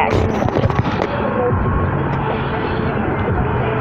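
Fireworks bursting over an uptown celebration, a dense loud rumble of overlapping booms and crackles rolling continuously without a break.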